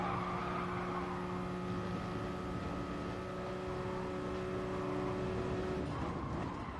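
Toyota Supra race car in Gran Turismo at Spa: a steady engine drone holds a sustained tone for most of the stretch, with tire squeal mixed in before the pitch shifts near the end.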